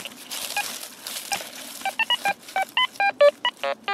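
A metal detector sounds over a find during a militaria hunt, starting with faint rustling and soft warbles, then a series of about ten sharp electronic tones in quick succession, close and clear.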